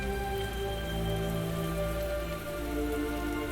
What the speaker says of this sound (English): they did a pretty good job with the rain